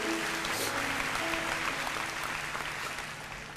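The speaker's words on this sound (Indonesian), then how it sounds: "Beri tepuk tangan untuk Tuhan Yesus." A church congregation applauds steadily and loudly during a sermon, the clapping dense and continuous throughout with no pauses or talk.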